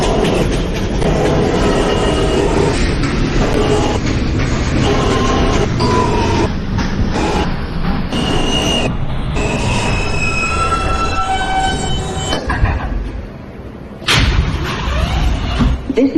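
A New York subway J local train rolls along the track with a loud, continuous rumble, sharp wheel squeals rising and falling, and a heavy clunk near the end, heard close from inside the car.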